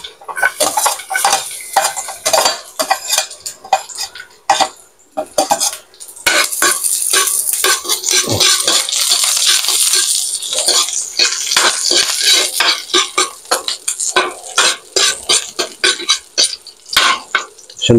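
Garlic dropped into a moderate amount of hot cooking oil in a pan for laing, crackling and sizzling steadily with scattered clinks and scrapes of a utensil stirring, close and fairly loud with no talk.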